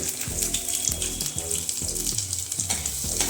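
Cumin, finely chopped ginger and garlic sizzling in hot oil as a tempering for a halwa kaddu (pumpkin) sabzi, a loud continuous crackle with repeated stirring scrapes and some watery clatter, no talk.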